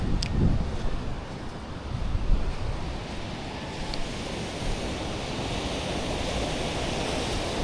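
Ocean waves crash and wash in a continuous roar, with wind buffeting the microphone; no voices.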